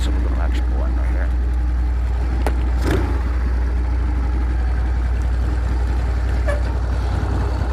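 A Harley motorcycle engine idles with a steady, loud low rumble close by as the bike pulls in and slows, continuous throughout with a few brief mechanical clicks.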